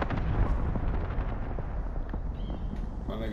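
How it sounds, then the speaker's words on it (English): Gunfire in the shooter game Call of Duty: Modern Warfare crackles in dense, rapid bursts with booming impacts, loud and continuous throughout, with no voices. "Now I'm gonna shoot them."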